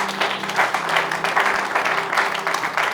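A wedding congregation applauds and cheers together, a dense, steady burst of clapping from many hands filling the room, with a few voices mixed in.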